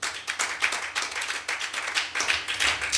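A congregation claps in acclaim of the Lord at a church service, a dense, steady round of many hands sustained and fairly close throughout, with no voices over it.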